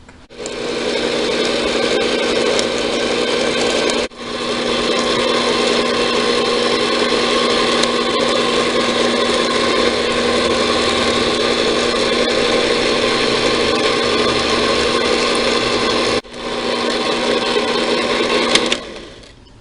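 An electric mixer whirs steadily while blending eggs into oatmeal cookie dough, a continuous close motor hum that cuts out briefly twice before starting up again.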